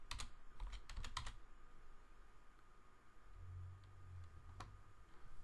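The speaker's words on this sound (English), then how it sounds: "if we start typing" Quiet typing on a computer keyboard: a quick cluster of soft clicks at the start, then a few sparse taps over a faint, hissy room background.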